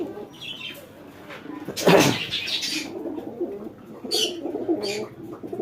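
Domestic pigeons coo indoors in a house, soft low throaty calls repeating at close range, with a louder burst around the middle and a few brief higher chirps.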